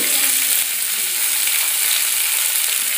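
Onion, bay leaf and ginger fry in a pan with a loud, dense, continuous sizzle that holds steady throughout, close up and with no voices.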